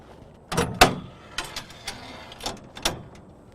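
Gull-wing engine doors on a Komatsu WA200-8 wheel loader, gas-strut assisted, swing open with a few distinct mechanical clunks and latch clicks at close range, with no talking.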